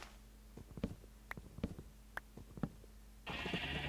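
Sheep in the game Minecraft bleat in short, faint, scattered cries over a quiet low hum, followed by a louder burst of hissing noise at the end.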